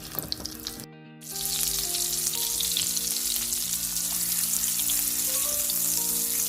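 Tomato slices frying in a hot pan for an egg breakfast, a loud close sizzle that jumps up after a brief pause and then hisses steadily, with no one talking.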